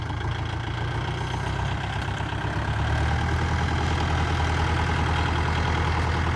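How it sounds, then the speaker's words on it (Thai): A tractor engine rumbles steadily close by, a dense low droning idle that continues without a break and with no speech. "วันนี้ก็ใช้รถไถยก"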